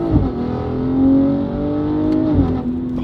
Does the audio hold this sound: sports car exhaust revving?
yes